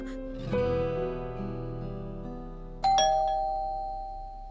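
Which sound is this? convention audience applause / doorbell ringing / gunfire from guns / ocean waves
doorbell ringing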